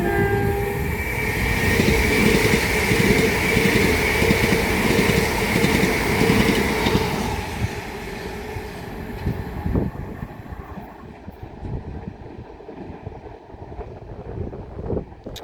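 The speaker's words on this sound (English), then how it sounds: "pass for now is going to be a pair of Southeastern Class 375s going from London Charing Cross to Ramsgate" A pair of Southeastern Class 375 units, running from London Charing Cross to Ramsgate via Canterbury West, passes at Grove Park with a loud sustained roar. The roar drops away about halfway through and leaves a quieter rumble.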